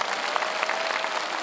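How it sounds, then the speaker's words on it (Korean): Congregation applauding at an outdoor Korean Catholic Mass for peace on the Korean peninsula, held at Imjingak Pyeong-hwa Nuri, giving steady, moderately loud clapping from a crowd throughout. "박수 부탁드립니다."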